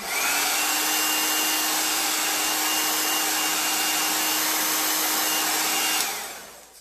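A heat dryer blows over a chalk paste craft, a loud steady whirring roar with a faint tonal hum that runs for about six seconds, then quickly winds down; no talking.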